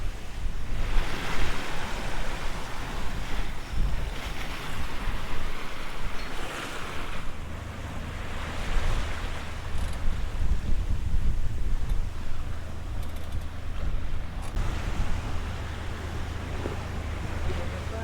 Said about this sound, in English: Surfing down the waves here.